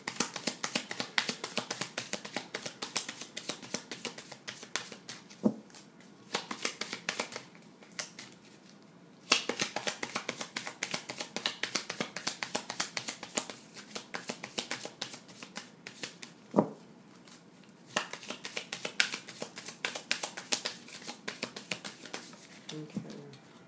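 A deck of Gypsy fortune-telling cards is shuffled by hand in quick riffling bursts and flicks, with brief pauses between runs and occasional sharp taps, heard up close and alone.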